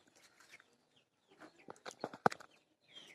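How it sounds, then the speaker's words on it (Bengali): A neighbour's chicken clucks in a backyard, soft scattered clucks building to a few sharper, louder calls near the middle, with quiet pauses in between. "না এটি তো আমাদের প্রতিবেশীর মুরগি।"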